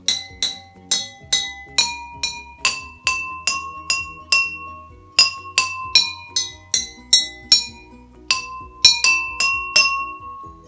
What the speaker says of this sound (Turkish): Evet gördüğünüz gibi her bardağın sesi şu anda daha farklı çıkıyor.